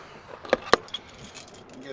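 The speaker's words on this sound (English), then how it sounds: "let me get the keys" Keys jangling just before starting a 2011 Leader unleaded vehicle, two sharp close metallic rattles with a lighter clink after, against a quiet background.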